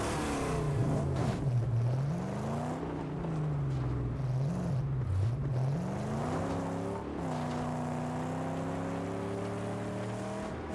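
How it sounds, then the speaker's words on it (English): A car engine in the Mad Max video game revs and drones continuously and loudly, its pitch rising and dipping as it accelerates, holding a steady growl throughout with no talking. "Meaty car sounds, engine noises."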